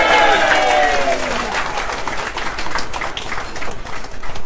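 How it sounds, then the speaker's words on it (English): A crowd at a New Zealand First political rally in Whangarei claps in scattered, uneven bursts following a sung line and a shouted call, with voices mixed in over the clapping. "Come on, give us a decent clap."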